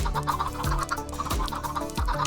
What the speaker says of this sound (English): I never thought I'd see a chicken so happy.